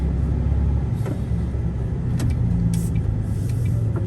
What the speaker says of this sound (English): trying to get this truck down little windy streets